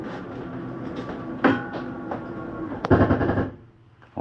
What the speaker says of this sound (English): That is just the slide mechanism telling itself not to come in any further.